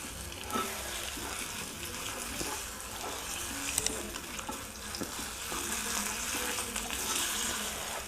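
Dry red chilli and asafoetida fry in a little oil, making a soft, steady sizzle with occasional stirring scrapes and small clicks, quiet and close.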